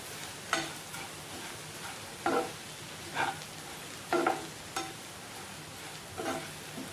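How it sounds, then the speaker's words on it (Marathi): Vermicelli (shevai) being stirred into an upma mixture in a pan, with spaced scraping strokes of a spoon against the metal over a faint sizzle, close and unhurried, no voices. "आपण आता याच्यामध्ये शेवई टाकूया आणि छान अशी मिक्स करून घेऊया"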